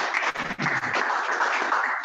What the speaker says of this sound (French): On peut encore applaudir pour Yvan Galoy